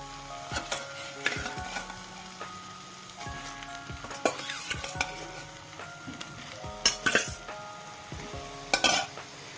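Boiled eggs and potatoes being stirred into fried spice paste in a pan, with intermittent bursts of sizzle and repeated metal spatula clinks and scrapes, moderately loud and close, no voices.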